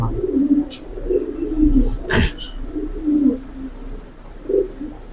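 Giribaz pigeons coo softly in low repeated bursts nearby, with a sharp thump partway through and faint chirps; a voice murmurs in the background.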